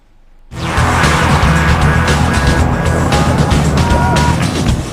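Racing cars in a motor car race roar past loudly with high-revving engines, bursting in abruptly and holding a steady, dense engine drone, with occasional tire squeal.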